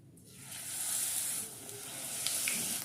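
Cabbage rolls frying in oil in a pan give a steady, close hiss and sizzle that swells and eases slightly, with faint spattering pops and no talking.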